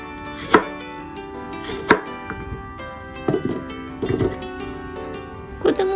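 A knife chops apples on a cutting board in a handful of sharp, irregularly spaced strikes, with soft steady music playing in the background.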